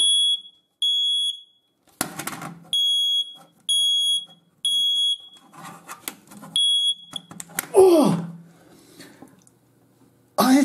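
A battery-powered smoke detector beeps in loud, repeated high-pitched bursts during a weekly test button press, interrupted by handling clicks and a rustle; a brief voice or squeak appears near the end.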